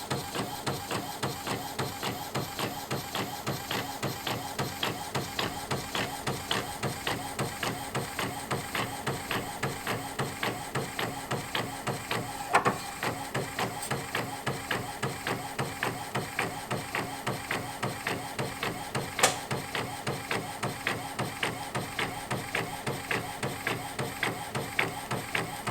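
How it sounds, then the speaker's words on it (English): An Epson WF7210 inkjet printer printing on film, running a steady, rapid mechanical ticking and shuttling rhythm at moderate level, with a couple of sharper clicks partway through and no speech. "We just sent the job to the printer."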